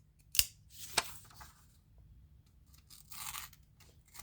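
An Asher Nomad pocket knife with an M390 blade, used and somewhat dull, slices through material with two sharp cutting snaps followed by a softer, longer tearing rasp, close and quiet.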